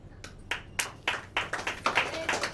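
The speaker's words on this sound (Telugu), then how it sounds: "ఎందుకు పడుతున్నారు చప్పట్లు?" A church congregation claps during a service, a loose run of sharp hand claps that begins sparse and quickens into a steadier rhythm, moderately close.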